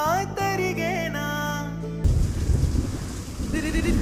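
Rain falls as a steady broadband wash after a burst of music cuts off, filling the rest of the short outdoor scene fairly loudly with no voices over it.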